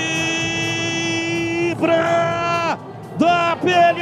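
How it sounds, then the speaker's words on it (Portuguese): Guarani supporters in a football stadium cheer and chant in loud, sustained bursts, with a long swell followed by shorter rising waves of crowd voices, close and full. "a torcida bugrina vibra"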